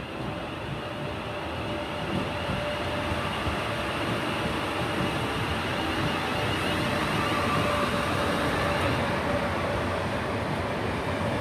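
A Class 350 electric multiple unit, number 237, rolls into Coventry station with a steady, even rumble and a faint tonal whine, holding moderately loud throughout without voices.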